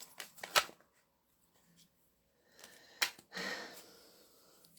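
Soft papery riffles of tarot cards being shuffled by hand, in a couple of short quiet bursts separated by near silence.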